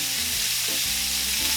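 Prime strip steaks sizzle loudly and steadily in a pan, close up, with a constant bright frying hiss and no voices over it.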